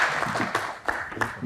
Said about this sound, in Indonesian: tepuk tangan sekali lagi untuk Tasya